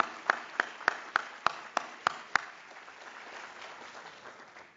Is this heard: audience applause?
yes